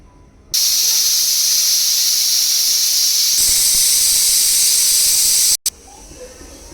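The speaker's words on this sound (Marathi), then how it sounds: "कुकरची शिट्टी झाली की थोडा वेळ कुकर गार होऊ द्यायचा आहे" A pressure cooker cooking vegetable pulao releases a loud, sustained whistling hiss of steam that rises in pitch midway, then cuts off abruptly, leaving quiet kitchen background.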